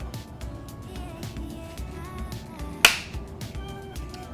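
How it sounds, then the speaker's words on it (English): A moisture sensor on a clothes dryer snaps into the lint filter grille with one sharp, close click about two thirds of the way through, over low background noise. "Just go ahead and push it through until you hear it click."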